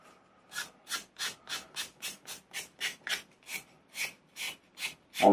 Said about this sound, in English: lay down some sandpaper and then spin the nacelle around.